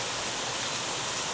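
Steady rushing of moving water, like a stream or small waterfall, a dense even hiss filling the whole moment at close range with no voices over it.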